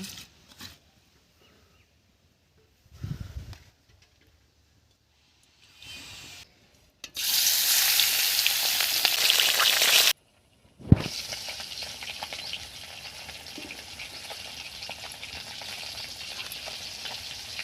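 Oil poured into a hot wok for frying fish, a sudden loud sizzle bursting out after quiet handling noises, holding steady, cutting off, then resuming more softly and continuing.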